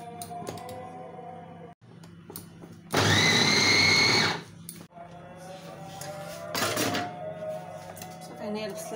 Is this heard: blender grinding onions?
yes